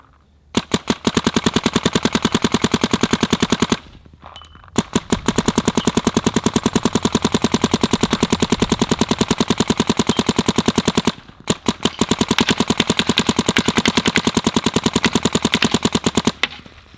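Planet Eclipse Geo R5 paintball marker firing long rapid strings of shots in quick, even succession, loud and close, with two brief pauses splitting the bursts.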